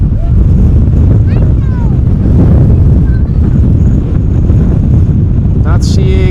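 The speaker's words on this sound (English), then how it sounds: "It feels like it is a bit windy, or at least that the wind is picking up a little bit" Wind blows hard at Amsterdam Schiphol Airport, a loud, continuous roar and buffeting on the microphone that lasts from start to finish, with a voice talking over it.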